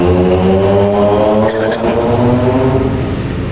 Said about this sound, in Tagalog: Wow, laki ng motor.